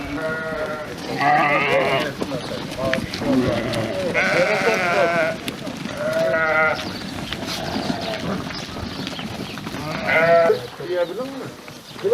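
A flock of sheep on a farm in Eskil, Aksaray, bleat repeatedly and loudly in overlapping calls, with people talking in the background.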